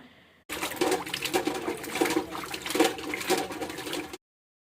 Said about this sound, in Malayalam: നന്നായിട്ട് ഒലച്ച് കഴുകണം അതിൽ മണ്ണൊട്ടും കാണാത്ത ഇല്ലാത്ത രീതിയിൽ കഴുകിയെടുക്കുക